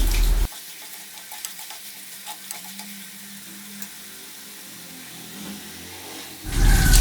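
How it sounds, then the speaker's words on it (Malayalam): Ground shallots, garlic, ginger and green chilli sizzle steadily in hot oil for a tuna curry, with soft stirring scrapes throughout. A louder burst of noise comes at the start and the end, and no one speaks. "മിക്സിയിൽ അരച്ച് വെച്ച ചുവന്നുള്ളിയും വെളുത്തുള്ളി ഇഞ്ചിയും പച്ചമുളകും കൂടി ഇട്ട് കൊടുത്ത് നന്നായിട്ട് വഴറ്റി കൊടുക്കണം"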